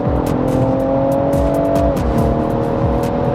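A Stage 1 car engine revs hard at close range with a steady high drone, then the pitch drops as the throttle is released, with brief crackles throughout.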